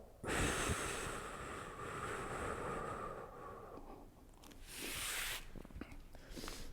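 A long, steady breath pushed out against slight resistance during a breathing exercise, a close hissing rush lasting about four seconds, then a brief pause and a shorter, airy breath burst; no talking.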